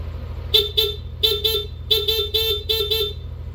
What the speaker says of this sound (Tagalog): pag magbubusina siya, stock horn